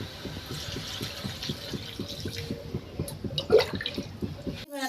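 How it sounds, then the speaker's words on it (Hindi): Water goes into a pan of fried spices for a potato and cauliflower curry in a village kitchen, a bubbling, filling gurgle with a rapid pulsing rhythm, moderately close and fairly quiet. "मेरा मसाला भुजा गया तो मैं पानी डाल देती हूँ।"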